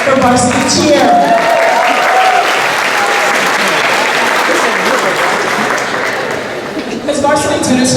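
A large audience at a high school end-of-year sports celebration claps loudly and steadily for the varsity cheerleaders, with cheering crowd voices mixed in throughout.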